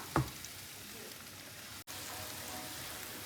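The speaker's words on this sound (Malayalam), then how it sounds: "വെളുത്തുള്ളി ഇഞ്ചിയൊക്കെ നന്നായിട്ട് വഴണ്ട് വന്നിട്ടുണ്ട് ഇനി ഇതിലേക്ക് നമുക്ക് മുളക് പൊടി ചേർത്ത് കൊടുക്കാം" Garlic and ginger sautéing in a pan for a garlic-tamarind pickle, a steady close sizzle of frying with a brief clatter at the start and a short dropout midway.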